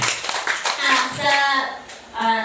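Hands clap together in a church congregation while voices sound over the applause.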